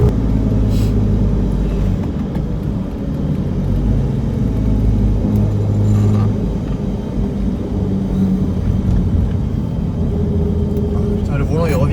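BMW E30 on a test drive gives a steady, loud in-cabin engine rumble and road drone throughout, with voices talking over it.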